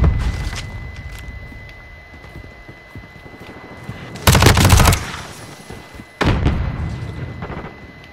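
An MP5 submachine gun in the Modern Warfare 2 beta, loud and close, firing two rapid automatic bursts, one around half a second long and a shorter one later, with quieter game clatter and footsteps between them.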